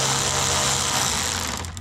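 A power tool whirs continuously for a couple of seconds, loud and close, as it undoes a bolt on the wing of a BMW E36 coupe, winding down at the end.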